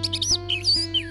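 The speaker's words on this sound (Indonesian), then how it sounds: "maka burung tersebut, khususnya anis merah," An orange-headed thrush sings a quick series of bright, whistled chirps and warbling phrases, close and clear over a low steady background hum.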